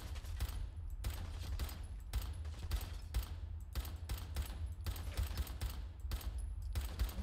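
Sustained gunfire exchange in the video game Fallout 4, with dense rapid shots and bursts layered continuously over a heavy low rumble, loud and unbroken throughout.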